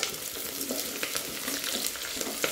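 Garlic and green chilies with a pinch of salt frying in a pan, a steady, close crackling sizzle with small popping bursts throughout.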